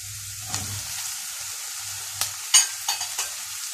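Potatoes cooking in a frying pan for leek potato soup, a soft steady sizzle with scattered stirring scrapes and a few sharper clinks near the end, close and alone.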